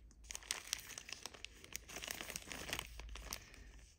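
A plastic bag holding assorted screws and heat-shrink tubing from a Kosmos electronics kit is handled up close, giving a steady run of crisp crinkling and rustling for a few seconds with no talking.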